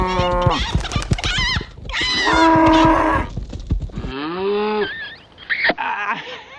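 Cattle moo loudly and close at an earthen cob building site, several drawn-out, wavering calls in a row, some overlapping, with harsher wheezy tones mixed in.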